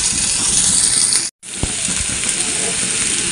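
Khosla seed fritters sizzle loudly in hot oil, a dense steady hiss broken by a brief silent gap and then a renewed crackling fry.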